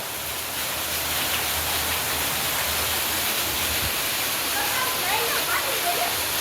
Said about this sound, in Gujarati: આ કેટલો વરસાદ પડતો હોય છે